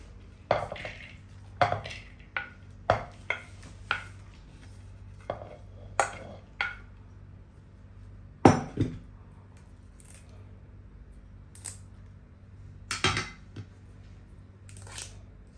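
Chopped ingredients for an anchovy fish thoran stirred with turmeric in a clay pot, giving irregular sharp clacks and scrapes at close range, some louder knocks standing out against a quiet background.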